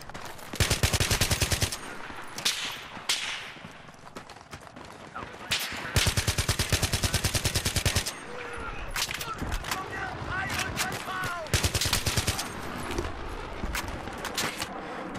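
AN-94 rifle gunfire in the video game Battlefield 3, loud rapid bursts and longer strings of automatic fire repeating across the clip, separated by short gaps with quieter reloads and game effects.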